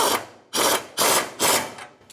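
A 12mm socket ratchet tightens the bolts on the rear fuel tank of a 1992-1996 Ford F-150: four close, loud bursts of rapid clicking, each lasting under half a second, with short pauses between and no talking.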